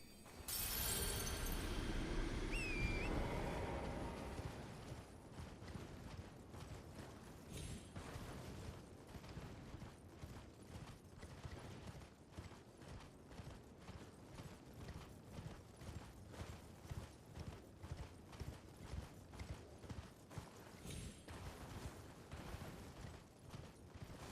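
Steady, rhythmic video game horse hoofbeats clip-clop throughout at a trotting pace, following a loud rumbling burst at the start, with no talking.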